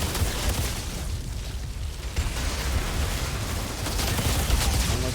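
Dense gunfire and rumbling explosions from the video game Outriders blend into a continuous, loud, crackling barrage with no clear gaps, heavy low booms underneath.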